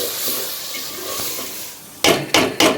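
Chana dal roasting in hot ghee masala in a pan, a soft steady sizzle followed by three loud, close scraping stirs of a spoon against the pan.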